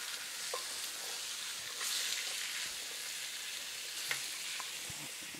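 Meat, carrots and potatoes for curry fry in a pan, a steady loud sizzle with occasional spoon scrapes and clinks as the pieces are stirred, close and with no talking.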